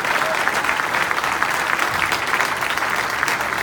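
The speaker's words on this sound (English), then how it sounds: "Round of applause, Simply Destiny." A crowd claps steadily at a district launch event, a dense and even wash of applause filling the room from start to finish.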